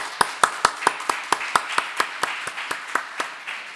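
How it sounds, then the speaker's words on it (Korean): A small church congregation at a Sunday service claps in unison, about fifteen crisp, evenly spaced claps that ring clearly in a quiet room and taper off near the end. "여러분 격려의 박수 한번 해주셨으면 좋겠습니다"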